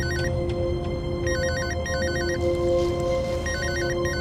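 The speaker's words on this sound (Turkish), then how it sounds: "Bunun telefonu çalıyor." A mobile phone rings with a repeating electronic warbling tone in short bursts, loud and clear over a steady background hum, with no one speaking.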